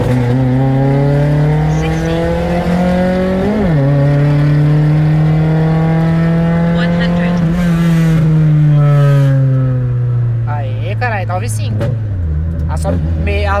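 A Chevrolet Celta 1.8 fitted with a Montana engine accelerates hard at a drag event, its loud engine revving up steadily through the gears with shifts around 3.5 and 12 seconds, close by, with talk mixed in.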